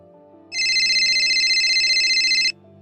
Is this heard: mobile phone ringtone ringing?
yes